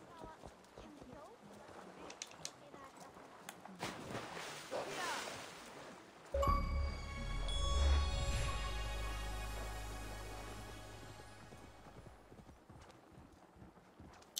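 Horse hooves clip-clop in a steady rhythm in a video game, followed by a sudden louder burst and a sustained tone, with a voice talking faintly at times.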